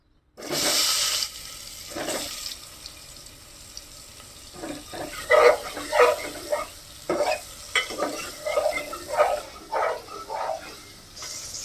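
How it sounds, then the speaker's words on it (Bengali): Potatoes frying in hot oil in a cooking pot for a Bengali egg curry, a loud burst of sizzle as they go in, then intermittent crackling and stirring scrapes that come and go at close range. "এখন আমি এই তেলের মধ্যে আলুটাও ভাজে নেব।"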